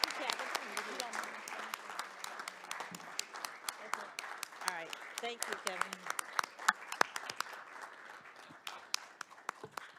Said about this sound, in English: let's give Kevin another round of applause